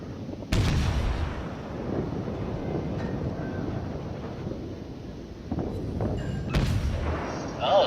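Ship guns fire salvos of high explosive shells in World of Warships, with two sharp, heavy booms several seconds apart over a constant wind-like rumble.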